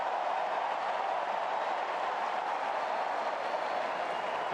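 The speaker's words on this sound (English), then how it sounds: "Here comes the crowd." Crowd roar at the US Open tennis tournament on a set point, a dense, steady wash of cheering and noise that stays loud and unbroken throughout.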